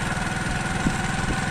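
Motorbike engine running steadily while riding behind a tractor trolley loaded with paddy on a rural road, a continuous near, droning hum with no talk.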